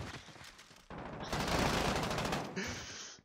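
An M4 rifle fired from the hip in a competitive shooter match, rapid bursts of automatic gunfire rattling in close succession and swelling into a dense volley, with a commentator talking underneath.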